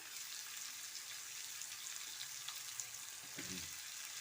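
Radish and onion sauté in a pan, a steady soft sizzle of frying vegetables running throughout with a faint clink or stir near the end.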